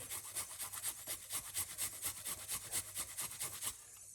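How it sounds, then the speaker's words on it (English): Fresh ginger is scraped across a grater in quick, even strokes, about a dozen rhythmic rasping passes close up before stopping, with no voices. "we're going to grate the ginger"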